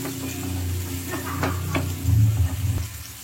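Chicken curry with tomato, turmeric and green chillies stirred in a pan: close sizzling and frying with several distinct spoon scrapes and clinks against the pot over a low steady hum, no voices.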